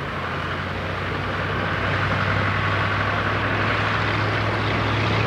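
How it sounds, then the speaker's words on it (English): A propeller fighter aircraft flies stunts at the Duxford air show in 1993, its engine a steady, loud drone that holds throughout with no break. "you're pushing to hold the aeroplane inverted"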